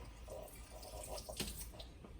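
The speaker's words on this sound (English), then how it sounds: "what we do with a volumetric flask is we would start by filling it up with water, not all the way full" Tap water runs into a glass volumetric flask in a lab, a soft steady splashing stream, fairly quiet and close, with no voices.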